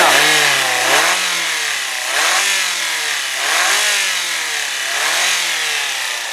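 A 2.3 liter four-cylinder engine in a 2003 Ford Focus SE revs up and down in repeated waves, loud and close, with no talking.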